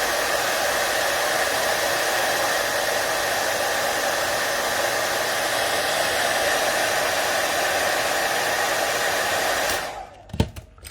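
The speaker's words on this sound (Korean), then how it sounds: "라이터 기름이 아니고 드라이기로요. 열을 좀 가해주시고" A hair dryer blows steadily for about ten seconds, heating a Galaxy S22 phone to loosen its foam pads, then cuts off near the end with a few soft handling knocks.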